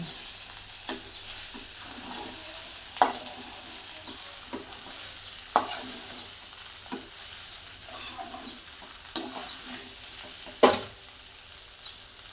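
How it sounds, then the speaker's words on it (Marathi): Sabudana khichdi being sautéed in a pan, a soft steady sizzle marked by occasional sharp scrapes and taps of the spoon against the pan, with no talking. "बघा अशी चांगली परतून घ्यायची बघा खिचडी"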